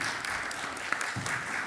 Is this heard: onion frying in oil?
no